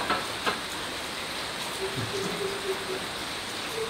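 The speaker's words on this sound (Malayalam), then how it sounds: "ഇങ്ങനെ നല്ല മഴ ഉണ്ട്" Heavy rain falling outdoors, a soft continuous hiss of drops at moderate distance with a faint tonal hum in the background.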